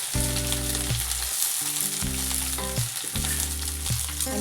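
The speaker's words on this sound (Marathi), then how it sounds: "मिरची चांगली भाजून झाली की त्यामध्ये बारीक चिरलेला बटाटा टाकून घेणार आहोत।" Finely chopped potato and chilies fry in hot oil for a fasting-day potato bhaji, giving a steady, close sizzle that runs throughout under a layer of music.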